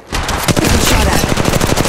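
Rapid automatic gunfire in the mobile shooter Apex Legends Mobile, a loud close burst of fast, evenly spaced shots that starts abruptly and runs continuously, with a Mastiff shotgun among the weapons.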